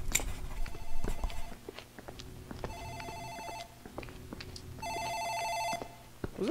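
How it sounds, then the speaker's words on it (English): An office telephone in the horror video game Dark Fracture rings in two distinct electronic bursts amid faint footsteps and ambient game sounds, moderately quiet and without speech. "I think that's the phone in the office."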